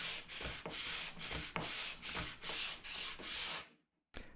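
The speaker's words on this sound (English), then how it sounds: "It took no time at all to do an initial sanding of this plug extension." A 220 grit sanding block rubs back and forth across a plastic rudder mold plug extension in steady rhythmic strokes, about eight close scratchy passes, then a brief silence and one final scrape.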